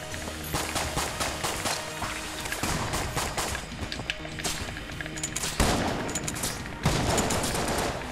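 Rapid pistol gunfire in the Enter the Gungeon video game, dense bursts of shots blending with action effects and music, loud and continuous throughout.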